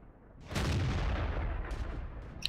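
A tank gun in a WWII tank video game fires one loud boom at a Crusader, followed by a long rumbling decay lasting about two seconds.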